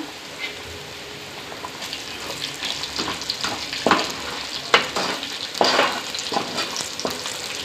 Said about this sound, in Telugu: అల్లం వెల్లిగడ్డ మంచిగా స్మెల్ బాగా వస్తుంది. మంచిగా ఫ్రై అవుతుంది కదా.